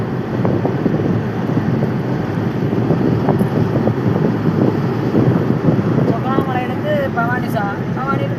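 River water rushing steadily outdoors in a continuous broadband wash, with birds chirping briefly near the end.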